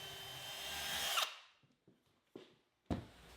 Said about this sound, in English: drill the hole a bit wider at 1/4 of an inch